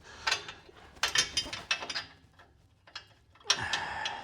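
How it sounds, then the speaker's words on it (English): A spanner works a loose exhaust bolt on a BMW E36, giving close, irregular metallic clicks and ratcheting scrapes in short bursts, with quieter gaps between them. "I'm going to have to double spanner it"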